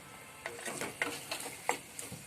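Peas tossed into a hot kadai for matar paneer, sizzling steadily while a spoon scrapes and stirs in quick uneven strokes, close and alone.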